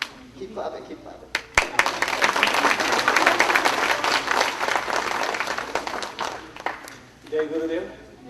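A crowd at a family retreat gathering in Maryland breaks into loud, sustained clapping after a brief opening noise, the dense applause holding strong for several seconds before dying away near the end.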